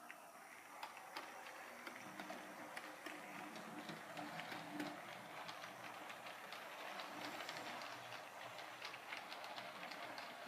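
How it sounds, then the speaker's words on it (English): A Hornby Santa's Express model train runs around a layout, a quiet continuous rolling rumble with light rhythmic clicks from the track, heard alone throughout. "Let's get this train moving."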